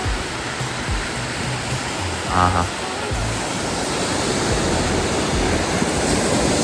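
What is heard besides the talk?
sea waves on the beach at Kashid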